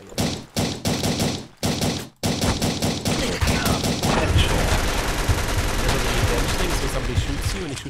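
Gunfire in the browser FPS game RUSH Team, with a few short bursts broken by brief gaps, then sustained rapid automatic fire and dense overlapping shots. It is loud and close, and no one speaks.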